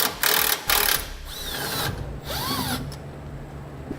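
A 13mm socket on a power tool backs out the bolt holding a wire e-brake bracket under a 2012 vehicle, giving short whirring bursts separated by brief pauses, close and fairly loud, with no talking.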